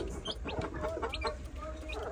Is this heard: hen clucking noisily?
yes